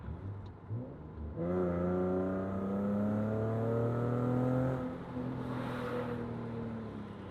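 Car fitted with a Fast Intentions catback exhaust and test pipes accelerating to about 5,000 RPM with the windows down, a rising engine note climbing steadily for several seconds, then easing off, heard from inside the cabin.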